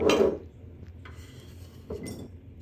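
A bright clink of cloves and ginger root dropping into a glass jar, followed by a softer knock and light rattling, close and quiet.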